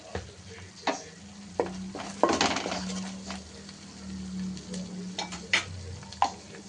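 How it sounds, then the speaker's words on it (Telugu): Onion and ginger garlic paste frying with turmeric, a steady moderate sizzle broken by several sharp spoon taps and stirring scrapes on the pan, with no voices. "ఇందులో మనకి ఆ ఉల్లిగడ్డ కానీ అల్లం వెల్లుల్లి పేస్ట్ మొత్తం చక్కగా ఫ్రై అయిపోయింది"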